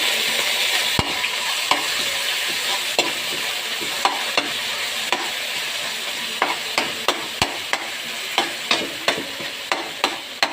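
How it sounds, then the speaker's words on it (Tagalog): Canned corned beef fries in a pan with a constant close sizzle, while a utensil scrapes and taps the pan in a quickening run of sharp knocks toward the end, no voices. "Lagay natin yung corned beef in can."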